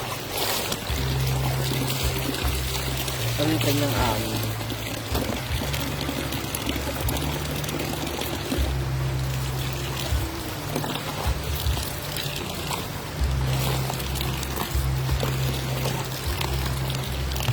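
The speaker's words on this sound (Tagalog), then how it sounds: "Yung aso naliligo sa ilog." A dog bathes and splashes in a river, giving continuous flowing and pouring water with irregular sloshing and splashes, fairly loud and close, while a low hum runs underneath and a voice briefly speaks.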